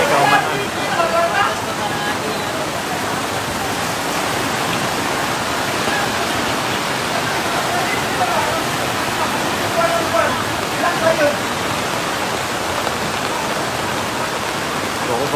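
High water rushes through a flooded creek with a constant, loud broadband roar and splashing, steady from start to finish with no pauses.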